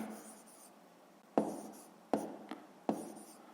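A pen writes an answer down during a sixth-grade math exercise, making a quiet scratching stroke followed by three or four sharp, close taps spaced roughly a second apart, heard alone.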